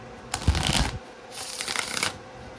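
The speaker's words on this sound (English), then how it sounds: "I will take my tarot deck. You guys know I have to shuffle it." A tarot deck being shuffled twice, two bursts of crisp riffling and flapping close to the mic, separated by a short pause.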